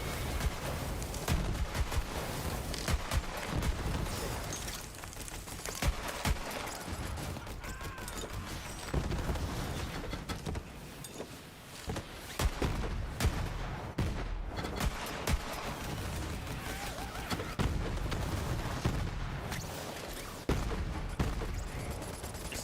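Sustained rapid gunfire in Borderlands 3 pours into a tough, heavily armored beast, dense overlapping bursts and impacts running continuously at close range with game effects layered underneath.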